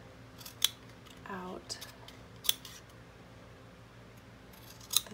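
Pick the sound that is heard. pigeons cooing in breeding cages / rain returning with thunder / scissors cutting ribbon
scissors cutting ribbon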